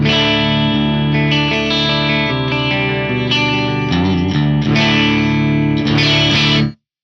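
A distorted electric guitar through a JTM45-style amp model with no pedals engaged rings out with sustained chords and riffs, loud and close, with a thick amp tone, then cuts off abruptly.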